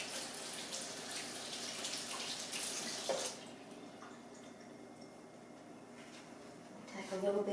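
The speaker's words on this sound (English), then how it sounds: "Gotta wet your hands." Tap water runs steadily at a sink while hands are wetted during sourdough pizza dough preparation, a broad hissing flow that is louder at first and then settles lower, with a brief splash near the end.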